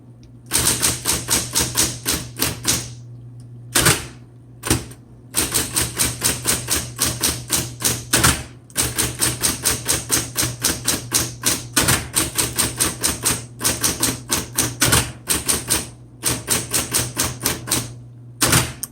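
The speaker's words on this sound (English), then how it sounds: "when you hit return, it does kind of shake the table. It shakes the typewriter a bit." A 1960s Smith Corona Coronet Auto 10 electric typewriter types in rapid, loud, close bursts of sharp key strikes over a steady motor hum, broken by short pauses and occasional heavier thumps from the return.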